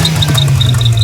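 A car engine fitted with a turbo whistle attachment revs under throttle, a steady low drone with repeated high whistling tones pulsing over it, close and loud.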